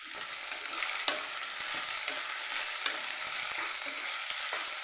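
Curry leaves frying in a pan as they are stirred: a steady bright sizzle of hot oil with soft scraping strokes of the spoon, close and moderately quiet, no voices.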